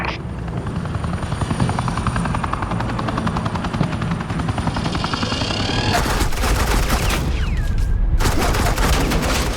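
Suppressing gunfire in the Batman: The Enemy Within video game: loud, continuous automatic fire with a heavy helicopter-like roar beneath it, growing denser and harsher toward the end, with no talking.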